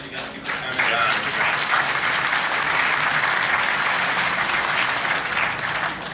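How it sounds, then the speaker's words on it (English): Steady, dense audience applause at a motorsport Q&A event, loud and sustained throughout with no clear breaks. "So put the hands together, keep the time, John."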